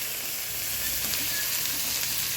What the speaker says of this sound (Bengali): এবার পেঁয়াজটা দিয়ে দেবো পেঁয়াজ কুচিটা